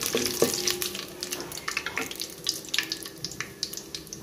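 Whole spices and a bay leaf frying in hot oil and ghee for egg pulao, a close, crackling sizzle with dense irregular pops and spatters that carry on throughout without any talking.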